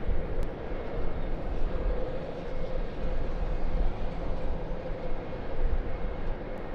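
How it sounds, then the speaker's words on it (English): Air New Guinea Boeing 737-800 departing Sydney Airport for Port Moresby, a steady broadband jet engine roar that holds loud and constant throughout with a low rumbling base and no voices. "Air New Guinea, Boeing 737-800, departing back to Port Moresby,"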